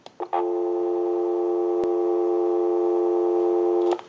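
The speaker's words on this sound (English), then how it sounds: "Give you some dial tone" Steady dial tone from a marble top table telephone converted for modern line use, a clean sustained hum starting after a couple of brief clicks and holding evenly for several seconds before cutting off, with no one talking.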